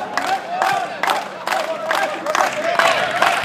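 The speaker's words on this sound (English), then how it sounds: "The crowd egging on both the teams." A large crowd cheers and roars steadily in an indoor gallery during the first semi-final of an international club volleyball tournament, loud and continuous, with periodic swells of shouting.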